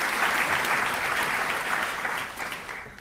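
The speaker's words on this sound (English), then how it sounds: "Let's give them all one more round of applause." An audience at a festival event breaks into sustained applause, a dense, even wash of clapping that holds for a few seconds and gradually fades toward the end.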